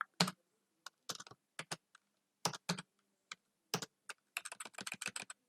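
Irregular bursts of keystrokes on a computer keyboard, close and clear, with short pauses between flurries and a quicker run of taps near the end.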